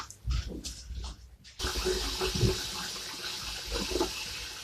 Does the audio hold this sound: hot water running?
yes